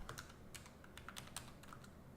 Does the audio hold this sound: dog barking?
no